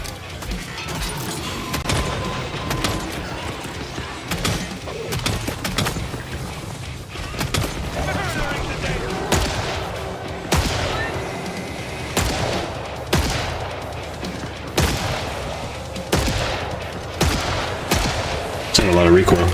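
Gunfire from the video game Killing Floor 3, a dense, loud barrage of repeated shots and booms going on for the whole stretch with only short gaps.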